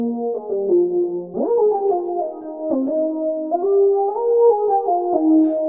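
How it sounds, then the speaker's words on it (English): A smooth analog-style synth lead preset from Arturia V Collection 9 Analog Lab plays a gliding melodic line with pitch bends, sustained notes and a clean tone, alone without talk. "but we're gonna use this lead one right here,"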